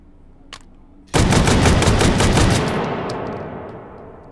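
An AA-12 automatic shotgun loaded with slug rounds fires in the VR game Hot Dogs, Horseshoes and Hand Grenades: one loud, continuous burst of rapid blasts after a faint click, then a long fading echo.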